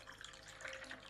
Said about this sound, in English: I'm going to free pour it again into the glass, just like that.